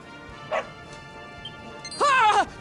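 A dog in the Dragon Quest video game lets out a short yip and then a louder, longer bark-like yelp, fairly close and alone.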